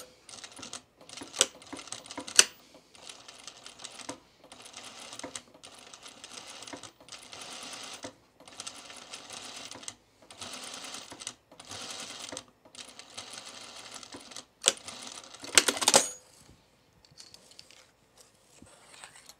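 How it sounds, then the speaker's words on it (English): A sewing machine stitches in the ditch along the bottom seam of Mitchell trousers, running in repeated short bursts of rapid, close mechanical clatter separated by brief pauses, with a louder rattle near the end. "I'm going to stitch in the ditch right here of the bottom seam"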